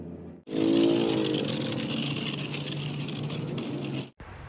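A car being parked revs its engine close by with a rising surge that settles into a steady running drone. The drone carries on for a few seconds before cutting off abruptly.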